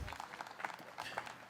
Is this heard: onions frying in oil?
no